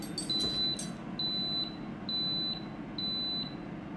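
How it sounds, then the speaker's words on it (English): A series of high electronic beeps from an air fryer signalling the end of cooking: a short burst, then three evenly spaced paired beeps over steady background hum. "That beep signifies the end of the air frying process"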